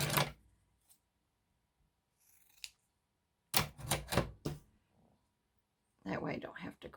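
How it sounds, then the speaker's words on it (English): Scissors snip through a folded sheet of paper in a few short, crisp bursts separated by quiet pauses, the cuts close and distinct, with a soft rustle of paper handling between them. "I'm just going to fold it like this and cut it"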